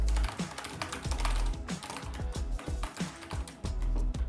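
Rapid typing on a SteelSeries Apex Pro gaming keyboard gives a dense run of sharp, close key clicks with heavy thocks from the larger keys, in an irregular fast rhythm.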